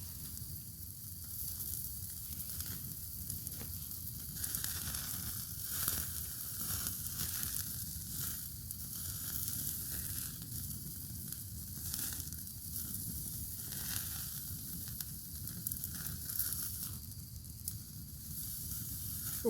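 A rib-eye steak sizzles over a Firebox wood-flame gas burner at a lakeside camp: a steady, dense frying hiss that runs unbroken and fairly close, with a few soft crackles and no talking.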